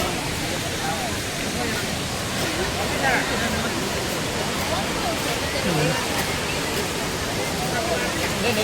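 The Devkund waterfall roars in a strong, continuous rush of white noise, loud and close, with faint voices of visitors murmuring underneath.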